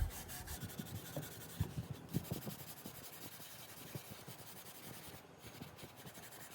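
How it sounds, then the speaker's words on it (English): A dry clean cloth rubs and wipes over a BMW GS motorcycle wheel after wire wool cleaning, producing a close, steady scuffing and rasping with uneven strokes throughout. "just go over it again with a dry clean cloth, just to pick up any loose bits of wire wool that have perhaps come off"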